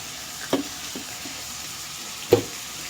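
Brinjal gravy frying in oil, a low steady sizzle broken by two distinct scraping knocks of a spoon stirring against the pan, close and alone with no voices.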